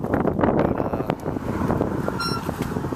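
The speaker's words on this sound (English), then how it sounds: "And of course now the wind will pick up." Strong wind buffets the microphone with a constant low rumble and roar, with a faint engine hum beneath it, aboard a 1976 Starcraft boat in the early morning.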